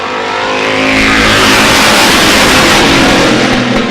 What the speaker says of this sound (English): A lot of side-by-side racing right on back through the pack.